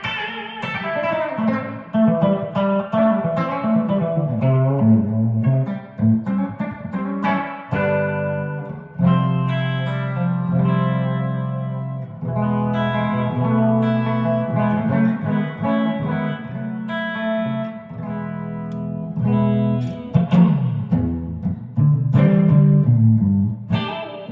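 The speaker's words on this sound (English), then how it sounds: "Nice reverb. Sounds really like a reverb tank." Electric guitar chords through a NUX Space Echo pedal ring out drenched in lush spring reverb, notes washing and splashing into a long ambient tail, loud and continuous.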